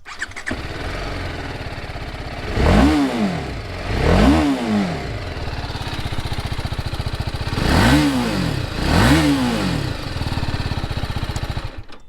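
A TVS Apache RR 310 BS6 sport motorcycle engine idles steadily and is blipped through four sharp revs, rising and falling quickly, loud and close.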